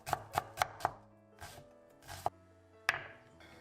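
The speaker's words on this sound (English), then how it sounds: "Take an onion, peel it and cut it into fine cubes." A knife chops through an onion on a board, cutting it into fine cubes: four quick, evenly spaced thuds, then a few slower, scattered cuts, close and fairly quiet with no talk.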